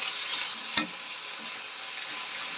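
Chili paneer with coriander leaves is stirred in a pan, a low continuous sizzle under one sharp utensil clack against the pan and faint scraping, close up and without speech.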